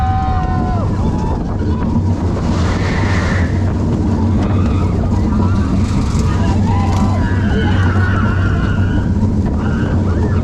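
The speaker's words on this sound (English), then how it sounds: "This is Boomerang at Bellewaerde Park." Boomerang roller coaster at Bellewaerde Park, ridden on board: steady loud rushing wind and rumbling track noise run throughout, with brief rider voices and whoops heard under the roar.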